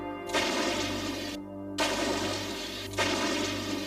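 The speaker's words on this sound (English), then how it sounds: "From the cannons of the presidential house to the booms of the now famous Bofors gun." Three heavy booms from the Bofors artillery gun, evenly spaced about every second and a half, each a loud broad blast over a steady low rumble.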